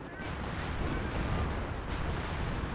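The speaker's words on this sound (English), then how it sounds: "That's gonna be a rocket barrage." Rocket barrage in the WWII strategy game Company of Heroes, a dense continuous rumble of overlapping blasts and booms that stays loud and steady throughout, with no pauses between impacts.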